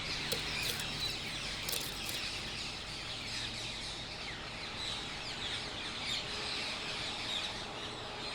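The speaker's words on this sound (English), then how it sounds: "Rose-ringed parakeets have made their homes in the old trees." Rose-ringed parakeets call from old trees in the Rhine Valley, a busy layer of fairly faint chirps and squawks over a constant outdoor hiss.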